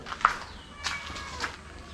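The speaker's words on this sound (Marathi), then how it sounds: "हे बघ काव्याची मांजर कुठे आहे?" A cat meows indoors in a bungalow under renovation, giving two or three short, fairly near calls over low background noise, with no talking.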